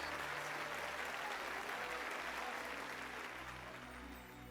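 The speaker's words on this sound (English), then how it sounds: "Why are we clapping?" Crowd applause rings out in a Final Fantasy XII scene: dense, continuous clapping from a large gathering that holds steady throughout and eases slightly toward the end, with a low tonal backdrop underneath.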